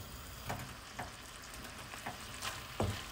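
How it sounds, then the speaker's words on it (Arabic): Chicken escalopes frying in sunflower oil and butter, a quiet continuous sizzle with soft periodic taps of a utensil against the pan. "غادي نقلي اللحم."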